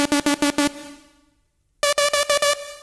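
A Melbourne rave style synth lead patch built in Sylenth plays bright buzzy staccato notes in a bouncy triplet rhythm, first a run of five short stabs, then a ringing tail and a pause, then a higher run of repeated stabs, loud and alone.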